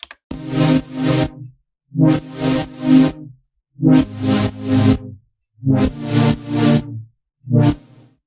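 A gated synth chord pattern programmed in FL Studio, its sustained chords chopped into rhythmic stuttering pulses in repeating bar-long phrases, with short silent gaps between groups.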